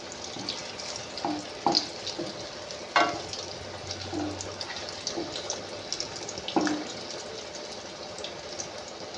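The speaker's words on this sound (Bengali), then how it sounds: "এবার এগুলোকে আমি পুরো লাল লাল করে ভেজে নেব" Puffed rice and potato snacks deep-frying in oil, a steady close sizzle with a few sharper pops and soft scrapes as pieces are turned, no talking.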